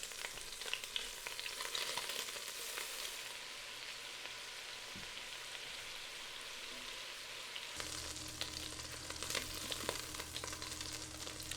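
Swedish meatballs searing in a pan give a steady, fairly quiet sizzle and crackle throughout, with a deeper frying hiss joining in toward the end.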